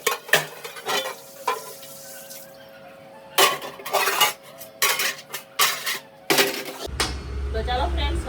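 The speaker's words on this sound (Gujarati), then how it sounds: "વાસણ ઉટકાઈ ગયા છે. હવે વાસણ ધોઈ રહી છું" Scoured steel pots and utensils being rinsed at home during a rainy day, with irregular clanks and clatters of metal dishes, and steady running water toward the end, and a voice at times.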